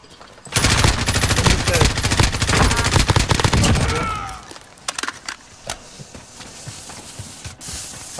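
Rapid automatic gunfire from a Warzone battle-royale match rattles loud and close for about three and a half seconds, then cuts off, leaving scattered shots and a low rumble beneath faint voices.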